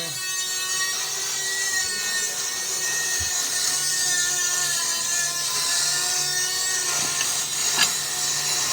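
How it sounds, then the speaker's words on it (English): Dremel rotary tool grinding metal and throwing sparks while a 1962 Ford Thunderbird is being assembled, a steady high whine with a constant rasp that holds at even loudness throughout, close by. "He's got the Dremel out. Ooh, you get a spark show."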